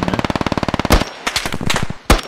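Heavy automatic gunfire in the tactical shooter Squad: a fast, steady burst of close shots that then breaks into scattered single loud cracks and distant impacts, with no talking.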